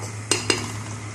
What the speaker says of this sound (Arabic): كده خلاص التوم احمرت والبصله، هطش الطماطم